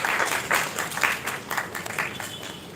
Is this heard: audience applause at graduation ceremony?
yes